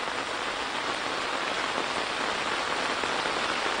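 Heavy rain pours outdoors at a temple gathering at night, a dense, constant hiss of drops striking surfaces, loud and close throughout with no speech.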